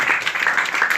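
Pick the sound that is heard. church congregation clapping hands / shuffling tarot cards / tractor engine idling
church congregation clapping hands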